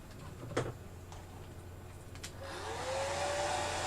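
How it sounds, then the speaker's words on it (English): A blow dryer drying a craft project at a desk switches on after a couple of faint clicks and taps, then blows in a steady, rising whirring roar close by. "I'm gonna use the blow dryer"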